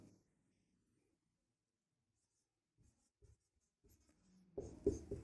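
Handwriting during a Class 10 maths lesson: faint, sparse scratches of pen on paper in near silence, ending in a louder burst of rubbing strokes.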